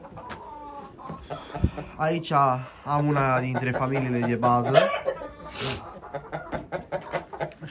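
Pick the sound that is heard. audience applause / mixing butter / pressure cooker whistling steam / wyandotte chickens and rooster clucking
wyandotte chickens and rooster clucking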